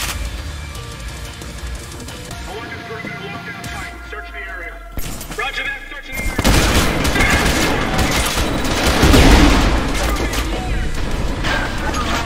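A frag grenade is thrown and bursts amid rattling gunfire in the video game Trepang2, with dense overlapping shots that swell into a loud blast and crashing noise in the second half.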